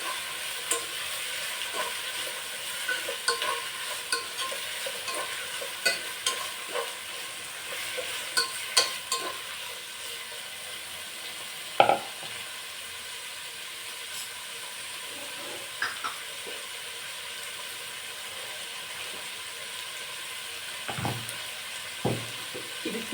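Chopped carrots and beans fry in a pan for bisi bele bath, a soft continuous sizzle under scattered, intermittent stirring clicks and scrapes, fairly quiet throughout.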